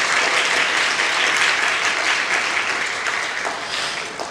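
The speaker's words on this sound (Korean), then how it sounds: "박수로 한번 격려해 주시면 고맙겠습니다." A church congregation applauds steadily during a Sunday service, a dense wash of many hands clapping that holds its level, then gradually fades toward the end.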